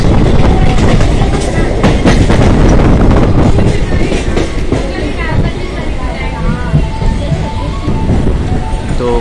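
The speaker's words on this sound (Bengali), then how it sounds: "তো কুন্নগর ঢুকে গেছে ট্রেন," A local train runs along the rails near Konnagar, with a steady, loud rumble and rhythmic clickety-clack of wheels over rail joints heard from inside the carriage, and faint voices in the background.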